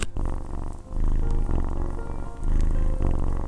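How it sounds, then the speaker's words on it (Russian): A kitten purrs steadily and loudly up close, the rumble rising and falling with each breath. "Как ни странно, котенок мурлыкает"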